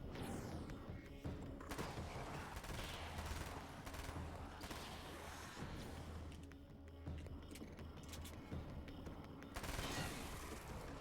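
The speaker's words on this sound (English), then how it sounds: "God, the SMG." SMG fire in the video game Alan Wake's American Nightmare, rapid bursts crackling at moderate loudness with a few louder impacts along the way.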